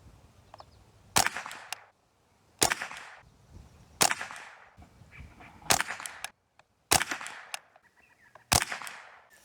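A Savage Model 64 rifle fires CCI standard velocity .22LR rounds at a 100-yard range: six sharp, loud cracks at roughly even intervals of about a second and a half, with brief quiet gaps between and no talking.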